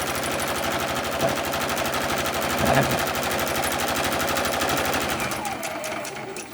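Sewing machine stitching a seam on a fabric bin made from fat quarters, a rapid rhythmic needle clatter running continuously and close, slowing slightly at the end with no talking over it.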